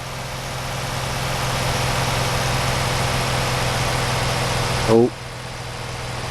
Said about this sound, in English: Oh, we're losing revs.